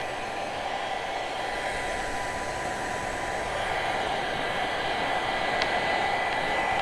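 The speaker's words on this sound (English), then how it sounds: "I'll grab my blow dryer because we need to blow dry it." A hair dryer blows with a steady, even whoosh, close and continuous for several seconds with no talking.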